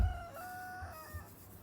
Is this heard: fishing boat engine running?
no